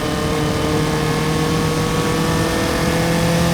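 Single-seater race cars accelerating together off the start at Mid-Ohio in an SCCA IT Spectacular race, a dense, loud, continuous engine roar with no break.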